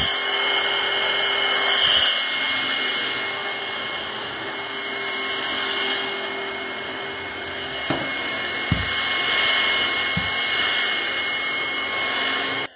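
A household vacuum cleaner runs on its third, strongest speed over a carpet rug, a steady close whooshing drone with slight swells in loudness and a few soft knocks.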